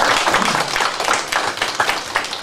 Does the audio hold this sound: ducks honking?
no